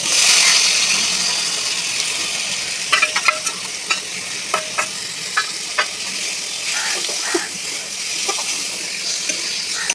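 Chicken pieces frying in a pan of spiced masala of chilli powder, turmeric, salt, cumin and sugar for chicken kasha, with a steady close sizzle and a run of sharp spatula scrapes and taps in the middle.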